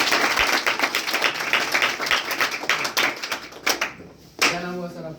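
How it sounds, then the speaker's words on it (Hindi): An audience claps loudly for a newcomer who has just come forward, with about four seconds of dense, vigorous clapping that dies away before a voice starts speaking. "इनके लिए एक बार जोरदार ताली।"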